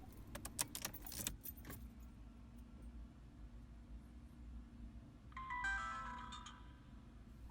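Car keys jangle as they are pulled from the ignition of a 2013–2020 Ford Escape, a loud metallic rattle in the first second or so. A brief electronic chime follows near the end over a low cabin hum.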